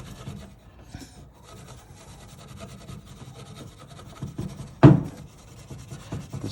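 Steady scraping and rubbing over the surface rust on a car steering wheel, close and continuous, with one louder knock partway through.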